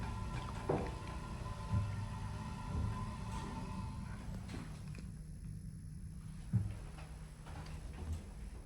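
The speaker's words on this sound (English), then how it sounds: "Hear the relays too." Relays in a vintage 1967 ESCO hydraulic elevator at Gulfway Plaza in Houston, clicking and ticking in an irregular series over a low steady hum of machinery.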